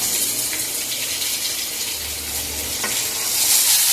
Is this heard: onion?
yes